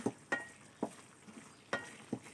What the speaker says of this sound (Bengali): তারপর আমরা এটাকে নেড়ে চেড়ে দিব।